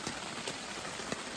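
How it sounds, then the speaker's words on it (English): Rain patters steadily on a tent during a camping trip, a dense close hiss with occasional heavier drops, no voices. "It's raining."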